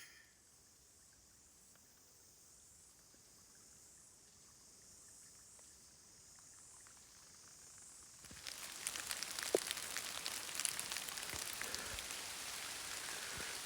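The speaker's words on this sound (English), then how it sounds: "It's raining now." Rain falls outdoors on a high hillside during a red stag hunt, starting as a faint steady hiss and then growing suddenly into a louder, denser patter of drops for the second half.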